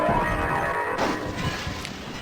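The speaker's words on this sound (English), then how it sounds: "And he breaks the stained glass window over up the falls" A stained glass window shatters in the video game Hexen, a sharp crash breaking out midway through a dense, rumbling game soundscape.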